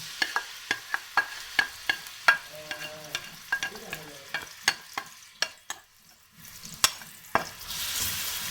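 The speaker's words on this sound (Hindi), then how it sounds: "मैं ऐड कर रही हूँ ऑनियन जो मैंने चॉप कर लिया है।" Chopped onions frying in oil in a karahi for beef karahi, with soft sizzling under a steady run of sharp spoon or spatula clicks against the metal pan as they are stirred.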